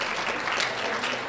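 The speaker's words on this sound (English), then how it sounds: "And let's give Diane a round of applause" Audience applause at a rescue dog presentation and awards event, a dense, steady wash of clapping that fills the whole short moment at even loudness.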